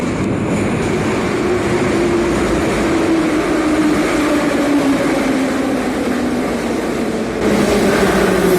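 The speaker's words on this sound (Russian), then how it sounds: "Старые московские вагоны ходят" Old Moscow metro train cars rumble loudly into the station with a steady roar and a slowly falling whine, building steadily over several seconds.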